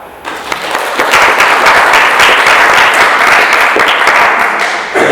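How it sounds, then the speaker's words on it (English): Audience at an improv student showcase breaks into loud, dense clapping that starts abruptly, holds strong and even for several seconds, then begins to ease at the end. "I want you to clap"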